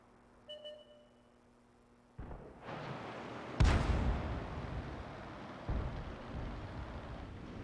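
An M44 self-propelled artillery gun in World of Tanks on the Sand River map fires a single loud, booming shot that rolls off into a lingering rumble, preceded by a softer thump and followed by a fainter later report.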